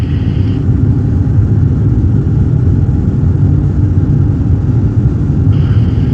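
Aircraft engines running at takeoff power produce a loud, steady, continuous roar and rumble from close by, with no talking over it.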